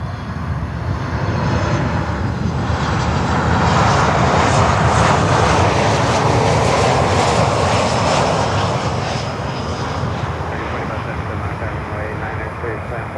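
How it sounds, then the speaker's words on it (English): An American Airlines Boeing 737 landing at Miami airport roars past with a loud, sustained engine rumble that swells and fades, while a voice talks over it. "Next inbound is American Airlines 737."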